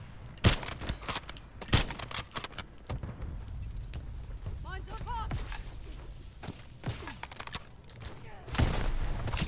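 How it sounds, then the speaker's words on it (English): Call of Duty combat: a mortar strike and volleys of gunfire, with loud sharp bangs and rattling bursts spread across the clip over a constant battlefield rumble, plus brief tonal game effects in the middle. "Mortar strike inbound."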